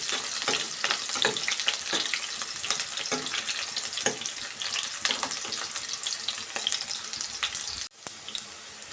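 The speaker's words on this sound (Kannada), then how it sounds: "ಕೆಂಪಿಗೆ ಫ್ರೈ ಮಾಡ್ಕೊಬೇಕು ನಾವು" Onions and curry leaves frying in a pan to a reddish colour as masala for village-style egg sambar, a continuous close sizzle with occasional stirring clinks, brief pause near the end, no voices.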